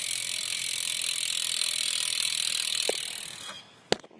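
Rear hub of a bicycle freewheeling, a dense fast ratchet buzz of clicks held steadily for about three seconds before slowing and stopping, followed by a sharp click.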